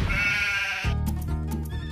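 Sheep bleat loudly in a paddock, a harmonic bleat followed by a second wavering call close by.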